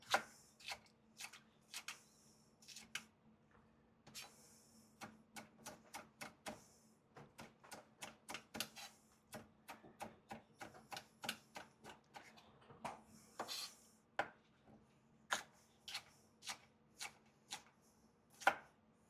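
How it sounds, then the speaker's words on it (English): Knife chopping a de-seeded hot pepper on a cutting board for chicken fajita tacos, a long run of crisp, close, fast irregular chops with brief pauses between bursts. "All right, let's do a little chop on it right quick."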